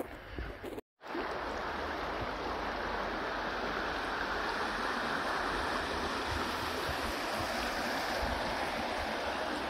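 A river flowing beneath a small footbridge near Devin on a snowy winter day gives off a steady, continuous wash of water, after a brief dropout at the start.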